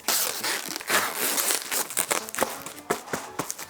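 Packaging wrap being handled while an electric bicycle is packed for shipping, making close, irregular crinkling and rustling bursts with occasional sharper crackles, heard alone.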